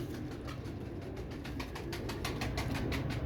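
A flock of pigeons coos and flutters nearby, a soft continuous murmur of low calls with faint wing rustles throughout, moderately quiet with no talk.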